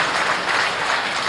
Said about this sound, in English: Let's give them a nice big round of applause for making this show extremely smooth.